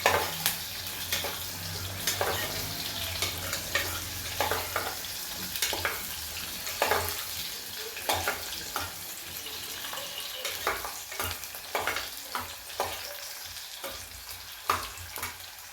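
Vegetables roasting and frying in oil for tomato vegetable bath, a steady sizzle broken by frequent scraping and clinking of a spoon stirring against the pan, close and fairly loud with no talking.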